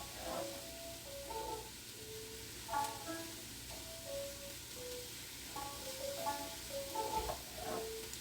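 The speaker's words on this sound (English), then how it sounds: "Stuff in here is sizzling now." Soft, steady sizzling of pork frying in a pan for chile verde, a constant low crackle with faint clinks and tones drifting over it.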